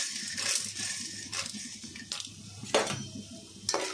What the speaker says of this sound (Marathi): तरी आपण यामध्ये पॉपकॉर्न बीज यांनी सीड्स घालून टाकूयात.